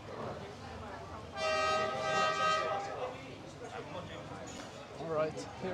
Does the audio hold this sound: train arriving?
yes